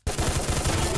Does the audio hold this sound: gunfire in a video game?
yes